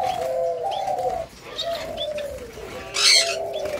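Eurasian collared doves cooing nearby, repeated soft low coos in a slow rhythm with a few faint chirps from hatchlings and a brief brighter call toward the end.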